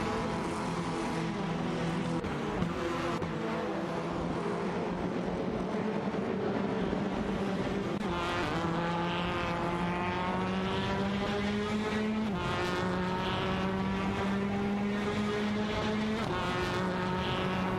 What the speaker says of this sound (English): Shinigami in the Honda Civic FA, and Just Jazik in the Alfa Romeo Giulietta TCR, are fiercely battling for the 13th position.